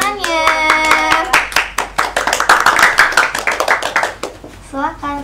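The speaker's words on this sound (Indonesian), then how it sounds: "kelompok 3 silakan menuju ke depan, beri tepuk tangannya" A classroom of students claps for a group heading to the front, with quick, uneven hand claps close by for a few seconds, bracketed by a speaking voice at the start and end.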